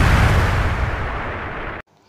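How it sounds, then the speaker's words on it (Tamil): An atomic bomb explosion sound effect, a loud, deep, rumbling blast that decays over nearly two seconds and then cuts off abruptly into near silence. "அணு ஆயுதம் வெடித்து சிதறுகிறது."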